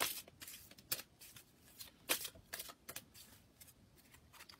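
Tarot cards being handled and cut by a reader, a run of crisp, irregular paper snaps and riffles close to the microphone, with quiet rustling between the sharper clicks.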